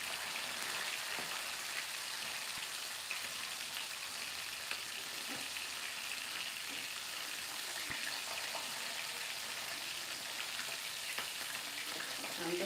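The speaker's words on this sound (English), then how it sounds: "I don't like frying fish" Fish frying in a pan produces a faint, low-level crackling sizzle that runs steadily for several seconds with scattered tiny pops, heard from a little distance.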